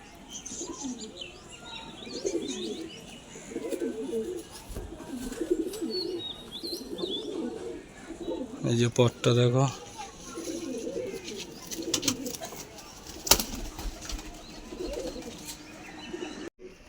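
A Jhapra pigeon coos in soft, repeated low phrases nearby, with a brief burst of wing flapping and occasional chirps, while someone speaks briefly over it.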